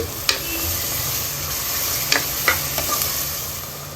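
Chopped onion pieces fry with a little salt in a pan for a spicy goat-head mutton curry, giving a steady close sizzle broken by a few sharp scraping clicks of stirring.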